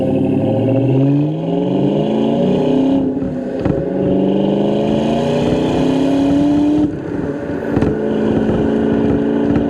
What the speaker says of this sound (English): Get off this gravel here without spinning the tires.